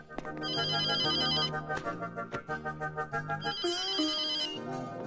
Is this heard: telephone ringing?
yes